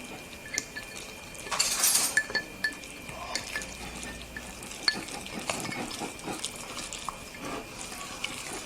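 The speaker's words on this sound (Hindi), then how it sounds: "Mix it well now." Brownie batter of oil and mix being stirred in a bowl, with soft scraping swishes and occasional light clinks of the utensil against the bowl, fairly quiet and close, with no talking.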